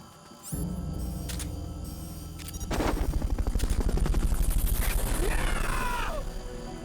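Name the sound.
helicopter in video game Metal Gear Solid Peace Walker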